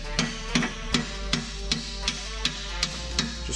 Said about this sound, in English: I'm gonna grab this heavy hammer.